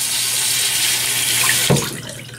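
Tap water runs steadily to wet a Frank Shave shaving brush, a continuous close splash that briefly gurgles and shifts as the brush goes under the stream, then eases slightly.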